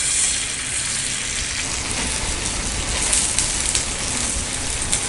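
A beaten egg mixture with onion, green chilli and salt, for a bun omelette, sizzles on a hot tawa as a close, steady crackling hiss with a few sharper pops.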